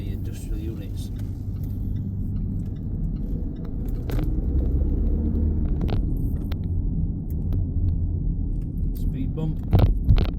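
A 2018 Land Rover Discovery Sport 2.0 TD4 HSE 4WD diesel gives a steady, low cabin rumble as it turns a corner into an industrial estate. A voice talks over the engine, and a couple of brief knocks come near the end.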